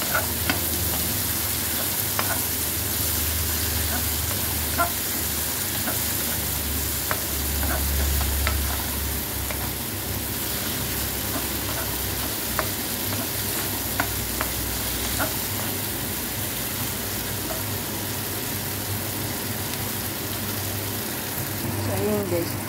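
Carrots stir-fry in a pan for sayote with carrots, a steady broadband sizzle running throughout with scattered clicks of a utensil scraping and stirring; a low background hum sits underneath.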